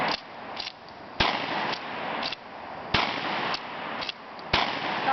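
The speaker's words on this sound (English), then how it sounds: "Tom Haley having fun with a shotgun." Pump-action shotgun fired down an outdoor range, sharp loud booms repeating about every one to one and a half seconds, each blast trailing off into echo.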